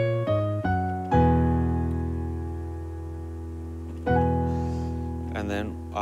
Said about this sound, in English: the bass walks down while the melody goes up